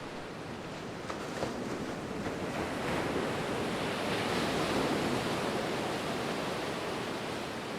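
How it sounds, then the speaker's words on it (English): Storm-driven waves from a surge at Gordon's Bay, South Africa, pound against a seaside restaurant in a continuous loud roar of surf and spray, swelling slightly midway, with wind buffeting the microphone and no voices. "causing waves to hit the restaurant repeatedly"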